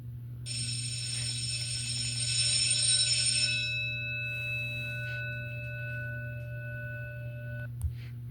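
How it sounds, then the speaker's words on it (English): A school bell rings to end a lesson with a sustained electronic tone that holds for several seconds before cutting off, over a constant low hum. "The bell ringing."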